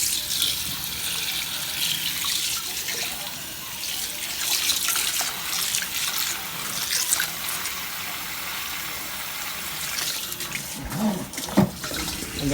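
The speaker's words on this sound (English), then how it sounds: "this pot that I had it in, I'm going to put some water." Tap water runs steadily into a cooking pot used for browning oxtails, a continuous splashing hiss for over twelve seconds with a few clinks and knocks near the end and no speech.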